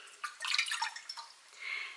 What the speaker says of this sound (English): Into a medium-sized pot, you put 1 cup